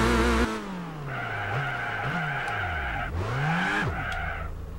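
In Gran Turismo 4, a car brakes hard, and its tires skid with a loud, sustained screech. The pitch wavers and the squeal renews in several bursts over the engine's falling drone.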